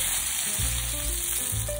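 A crispy somen noodle cake frying in a pan, giving a continuous hissing sizzle close by, with a low hum running underneath throughout.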